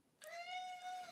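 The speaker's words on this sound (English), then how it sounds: "that's my cat." A pet cat lets out a single clear, drawn-out meow, close and fairly soft, lasting about a second in an otherwise quiet room.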